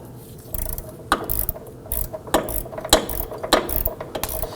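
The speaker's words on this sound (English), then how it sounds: "we use our 15mm gear wrench" A 15mm gear wrench ratchets a nut onto a front sway bar link on a 2008-2011 Ford Focus, giving a series of sharp, close clicking bursts in an uneven rhythm with no talking.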